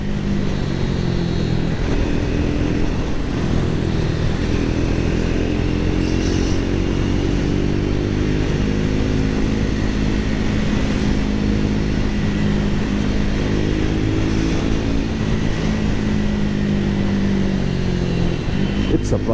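Triumph Speed 400 motorcycle accelerating on city streets, a steady loud engine drone with rising revs running throughout, mixed with wind and road noise close to the rider.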